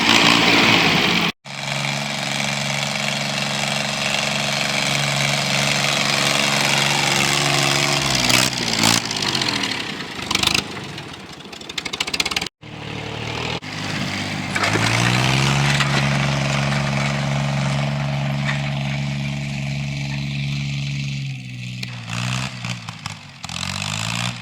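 Small Ford 1710 garden tractor engine runs steadily near at hand, a loud continuous drone with shifting pitch as it works a garden, briefly cutting out twice.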